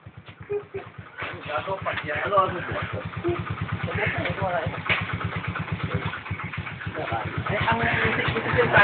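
A scooter engine runs and idles close by in Baguio with a rapid, sputtering low putter throughout, while people talk over it.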